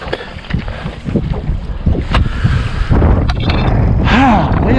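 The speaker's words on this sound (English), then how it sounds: "Wind's getting up." Strong gusts buffet the microphone on a small fishing boat out on open water, a loud continuous rushing roar with some creaks and knocks from the boat beneath it.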